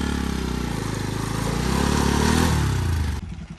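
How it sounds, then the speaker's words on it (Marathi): Motorcycle engine labouring loudly as the bike struggles to climb a slippery muddy off-road hill path, a steady strained drone with rhythmic chugging that cuts off abruptly near the end. "बाइक चढ़ रही नहीं ऊपर"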